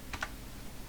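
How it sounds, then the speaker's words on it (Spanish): Two quick, faint key presses on a computer keyboard, the plus key tapped while rotating a diode in circuit simulation software, small clicks over a low background hum. "Con el signo más del teclado lo voy girando."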